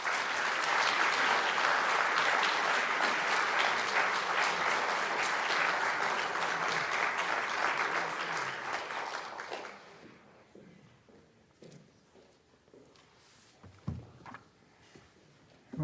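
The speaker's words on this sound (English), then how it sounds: "if you will join me in an initial round of applause" A lecture audience applauds as the speaker heads to the podium, a dense, loud, sustained clapping that fades out after about ten seconds, followed by quieter room noise and scattered small sounds.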